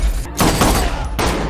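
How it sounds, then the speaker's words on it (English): Gunfire from the film John Wick comes as two loud bursts of rapid shots separated by a brief pause, dense and harsh across the whole clip. "That's a gun."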